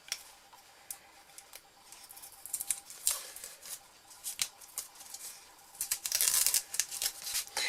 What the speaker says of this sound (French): on va retirer le scotch de masquage